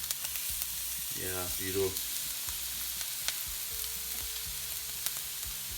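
A steak taken straight from the fridge sears in a very hot pan, giving a steady, even sizzle throughout, with a brief spoken remark over it.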